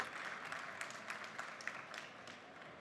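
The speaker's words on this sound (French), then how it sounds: "On peut les applaudir effectivement." An audience at a French logistics industry conference applauds as a guest is welcomed to the stage, scattered, faint clapping heard at a distance in a large room.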